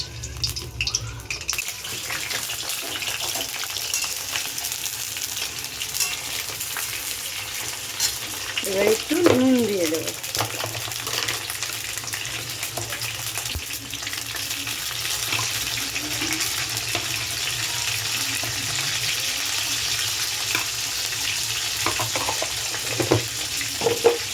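Potatoes fry in hot oil in a wok with a continuous, even sizzle throughout. A short burst of louder crackle comes partway through.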